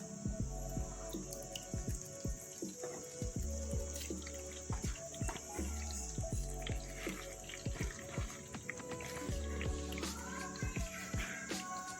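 Water poured over grated coconut in a strainer while straining coconut milk, a close, steady trickle and splash into a container with scattered drips and small impacts throughout.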